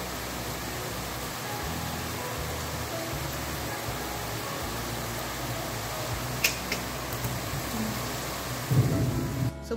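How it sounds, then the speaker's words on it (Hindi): Steady rain pours down with a constant hiss and a low rumble of thunder underneath during a storm outside a home, fairly faint and even throughout, with a brief louder thud near the end. "बारिश शुरू हो गई है"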